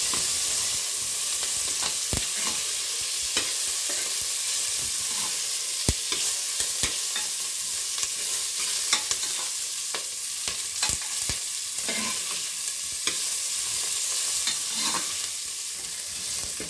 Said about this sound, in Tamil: இதெல்லாம் நல்லா ஃப்ரை பண்ணலாம்.